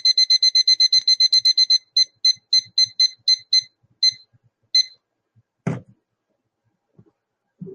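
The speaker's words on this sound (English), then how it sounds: "I forgot to set my little timer here. Oh, doesn't that sound lovely?" A small kitchen-style timer alarm rings in rapid repeated beeping bursts, first in a fast continuous run, then in slower separated chirps before it stops, followed by a few soft handling knocks.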